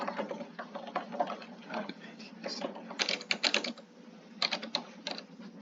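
Keys clatter on a computer keyboard in irregular bursts of quick, close taps, fairly quiet against a soft background.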